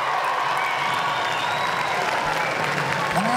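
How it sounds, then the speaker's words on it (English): An audience at a show with The High Kings and a group of schoolboys keeps up a sustained round of applause, thick and even, with faint crowd noise and cheers woven through the clapping. "Come on, folks, give them another round of applause."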